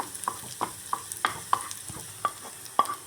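Shallots frying in oil as a tempering for coconut chutney, with repeated sharp scrapes of a spoon stirring the pan at a steady, uneven rhythm over a faint sizzle, close and alone.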